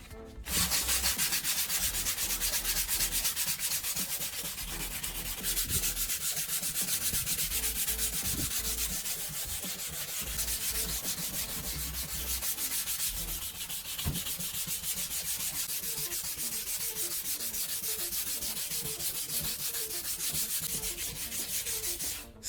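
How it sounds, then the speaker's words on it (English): Steady, continuous rubbing of 2000 grit sandpaper across a plastic car headlight lens, a dense close scratchy hiss that holds even and unbroken throughout with no talking. "Then take 2000 grit sandpaper. This is a finer grit, so it helps smooth out the surface even more."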